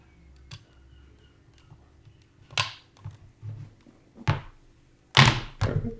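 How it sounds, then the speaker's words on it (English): A USB cable is plugged into the slot in the middle of a keyboard during a Raspberry Pi setup, giving a few faint close clicks and then several sharper plastic thunks and knocks, with no talking. "You would take the smaller end of the cable here and plug that in to the corresponding slot in the middle of the keyboard here."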